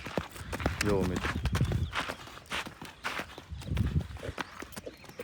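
Horses walk nearby, their hooves clip-clopping in an uneven rhythm of sharp knocks, with someone talking over them throughout.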